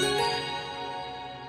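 A single bright bell strike rings out and slowly fades, its metallic overtones lingering.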